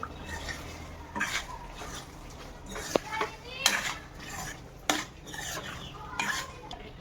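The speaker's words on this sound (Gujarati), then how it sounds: "હવે આપણે આમાં આપણી ઢોકળી એડ કરશું. મિક્સ કરીએ." A spoon stirs dhokli into thick gravy in a pan, with repeated scraping clinks of metal against the pan in an uneven rhythm, close and fairly loud, while voices talk in the background.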